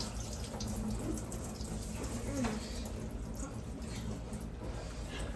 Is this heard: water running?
yes